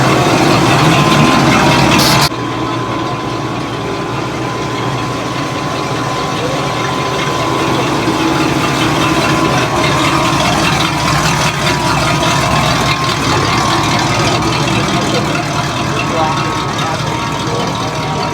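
A 1973 Chevy C10 truck's engine idles with a steady low rumble nearby, preceded by a brief louder burst at the start and continuing evenly throughout.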